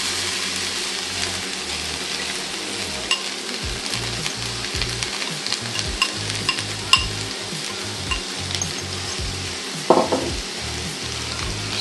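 Vegetables sautéing in a pan for baked spaghetti, a steady close sizzle with intermittent scrapes, clanks and tosses of a utensil against the pan, no talking.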